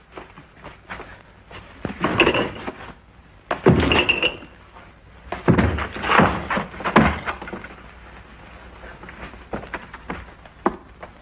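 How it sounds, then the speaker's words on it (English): A door is forced open with heavy repeated thuds and slams in several clustered bursts, loud and close, each strike separated by short pauses. "Force the door open."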